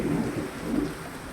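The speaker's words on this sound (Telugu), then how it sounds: "చూసారా అండి, ఎంత మార్నింగ్ కూడా వర్షం వస్తుంది" Morning rain falls with low rolling thunder during a village goddess festival, a steady, fairly loud wash of rain under deep rumbling, with no voices.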